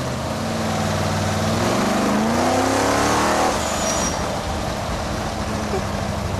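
A street-legal car with around 2,000 horsepower accelerates hard on a public road, its engine note climbing steadily in a loud, continuous roar for several seconds before easing off into a lower drone.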